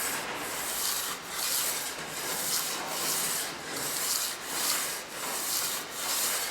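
A cylinder head being resurfaced by rubbing it on sandpaper laid over flat ceramic tile makes a steady, close, gritty scraping in regular back-and-forth strokes, with brief dips between passes, and no voices.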